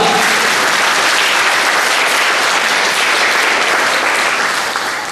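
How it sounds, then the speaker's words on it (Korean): A church congregation at a Thanksgiving Sunday service breaks into loud, dense applause, a continuous roar of many hands clapping close and full, tapering slightly at the end. "하나님께 영광의 박수 올려드립니다"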